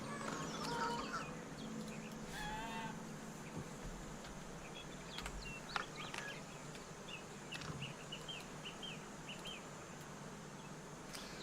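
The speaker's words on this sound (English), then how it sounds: "I got birds all around me" Chickens cluck and birds chirp in the Pax Dei video game, soft scattered calls over a constant outdoor ambience with faint insect-like buzzing.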